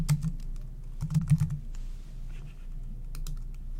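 Computer keyboard typing while alt text is entered for an HTML validation badge: quick bursts of close key clicks with brief pauses, steady and fairly soft, no voices.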